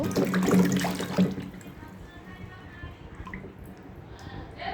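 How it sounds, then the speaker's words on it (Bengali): Water runs strongly over hog plums (amra) being washed, a loud gushing splash for the first second or so that then drops to softer trickling and light handling noises. "এখন এগুলোকে আমি ভালো করে ধুয়ে নেব"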